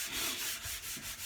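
Wood veneer on a small bookcase is sanded with the grain in short, even back-and-forth strokes, a soft close hiss repeating steadily in rhythm.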